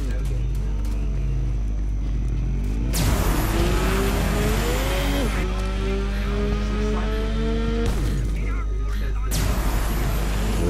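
Vehicle engine in the video game Borderlands 3, a steady drone that rises and falls in pitch as it revs and shifts, continuous and close throughout.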